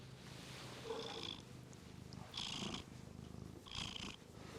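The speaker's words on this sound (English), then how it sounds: "Oh, he's purring." A cat purring close by, a soft, continuous rumble that swells and fades in three clear cycles with breaths between them.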